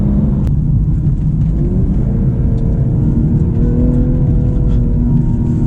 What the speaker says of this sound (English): We'll do one more acceleration onto the highway.